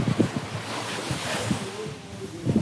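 Ocean waves wash onto a beach on an evening shore, a steady soft surf wash with wind noise buffeting the microphone, fairly quiet and continuous with no talking.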